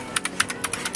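Rapid clicky keystrokes from a mechanical keyboard, close and crisp, tapping in an uneven quick rhythm with no talking.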